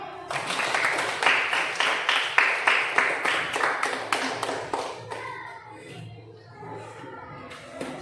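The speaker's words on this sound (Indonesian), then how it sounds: "Baik, silakan tepuk tangan." A school class claps together in a steady, rhythmic unison beat for about five seconds, loud and close, then the clapping stops and children's voices and classroom murmur take over.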